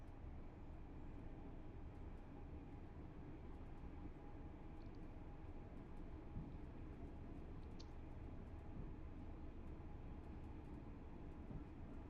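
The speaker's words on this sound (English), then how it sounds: "Train sound is great as well." Steady, faint train rumble from Train Sim World 4, a continuous low drone of rolling stock and engine with no distinct events, unchanging throughout.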